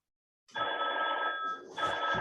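A telephone rings during a lecture, starting abruptly after a moment of silence and trilling loudly and continuously, with a brief dip before the ringing resumes.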